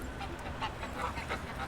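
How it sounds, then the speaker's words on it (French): Greylag geese honk in a brief chorus of repeated overlapping calls beside the Rhône river, heard against a steady outdoor background. "les oies cendrées qu'on a juste là devant nous"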